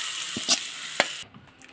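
Hot tempering of mustard seeds and chili powder poured into a drumstick curry, giving a brief close sizzle with a couple of sharp splashes before it cuts off.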